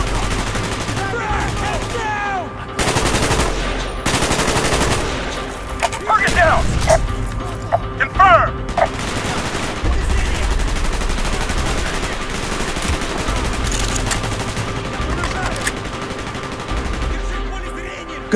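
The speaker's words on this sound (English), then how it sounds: "Gunfire's drawing attention" Bursts of gunfire crackle amid battle noise in the video game Call of Duty: Black Ops, with rapid volleys and scattered single shots over a continuous loud background; voices call out at times.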